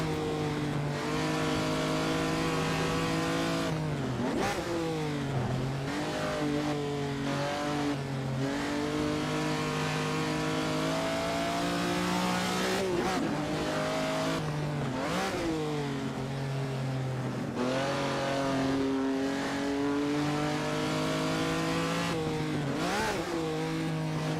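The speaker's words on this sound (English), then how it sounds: "the sound is bloody awesome on these cars" A Ferrari race car engine in a racing video game at Zandvoort roars continuously, revving up and down through repeated gear shifts, loud and close throughout with no talking.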